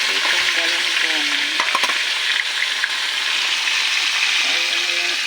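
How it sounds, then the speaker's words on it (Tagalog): Fried galunggong fish goes into a pan of cooking mung beans, giving a loud, close, continuous sizzle with faint clinks and a brief murmur of voice partway through. "ilalagay na natin yung pritong galunggong"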